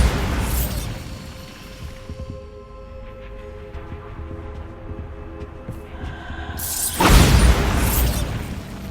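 A Bombarda spell blast in Hogwarts Legacy: a loud booming explosion opens the moment, then a quieter stretch of ringing, rumbling ambience, and a second forceful burst erupts near the end.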